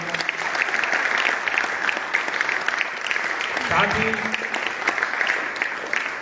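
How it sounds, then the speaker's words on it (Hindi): Applause from an audience at a district cricket association training ceremony in Gangapur City, a dense continuous clapping that holds for several seconds while someone speaks over it. "सब पहले तालियों से हृदय से स्वागत करते हैं"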